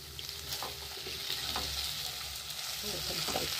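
Banana flower and potato curry fries in a pan with a constant close sizzle, broken by the repeated scrape and clatter of a spoon stirring the mash.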